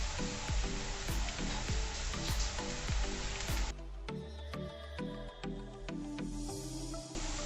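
Chopped onions with a pinch of turmeric fry loudly in a pan, a dense steady sizzle broken by regular scraping stirs, settling slightly quieter partway through.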